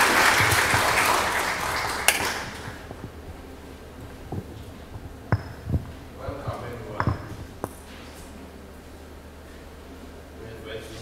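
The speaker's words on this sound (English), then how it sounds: "Please clap for him as he comes over." An audience at a low-field MRI workshop at Mbarara University of Science and Technology gives a short burst of applause that fades within about two seconds. A few scattered knocks and footsteps follow in a quieter room.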